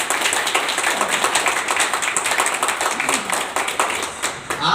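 Audience at a business plan meeting applauding, a dense, steady clapping from many hands that fills the room for several seconds without a break.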